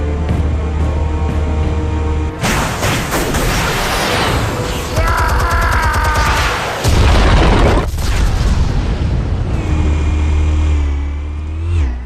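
Explosives going off in Batman: The Telltale Series, two heavy booming detonations with rumbling debris and mechanical clatter over a low engine-like drone.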